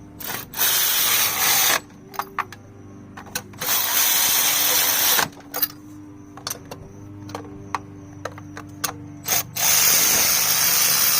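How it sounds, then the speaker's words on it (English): Ratchet wrench spinning spark plugs tight on a 2014 Ford Escort 2.0, loud bursts of rapid pawl clicking broken by short pauses and single clicks, close up with no talking. "This ratchet doesn't go to that high of foot-pounds. So we're just gonna spin them tight"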